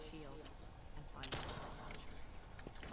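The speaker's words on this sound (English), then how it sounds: "Oh shoot, that's a mortar" Mortar and gunfire from Call of Duty Black Ops 3 gameplay: a loud explosive burst near the middle, with scattered sharper shots before and after over dense battle noise.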